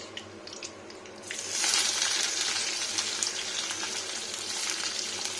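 Onion frying in butter in an iron wok at high heat, a steady close sizzle that swells up after a quiet moment and keeps crackling on its own.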